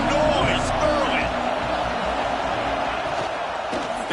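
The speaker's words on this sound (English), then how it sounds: "This crowd bringing the energy and noise early." A stadium crowd roars steadily at a college football game, a dense continuous wash of cheering with a commentator talking over it.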